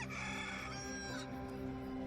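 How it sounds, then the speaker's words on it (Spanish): A rooster crows once in a long, drawn-out cock-a-doodle-doo, part of a dramatized audio Bible scene, loud and close with no speech over it. "en ese instante cantó el gallo"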